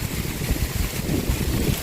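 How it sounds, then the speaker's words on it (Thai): A brief burst of heavy wind blasts across the microphone, a constant low rumbling roar without pause. "ลมแรงมาก"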